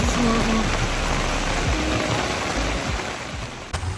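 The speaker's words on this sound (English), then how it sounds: "it started pouring rain" Heavy rain pours down outdoors at a vendor event while a canopy is being set up, a loud, dense, close hiss that continues throughout.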